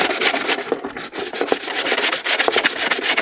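Close, loud abrasive scrubbing as a resin armor piece for a ShoreTrooper shin calf is roughed up, with rapid rhythmic back-and-forth rasping strokes and no talking.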